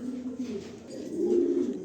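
A pair of large breeder pigeons coo in a low, continuous throaty rumble, close by and fairly soft, swelling slightly toward the end.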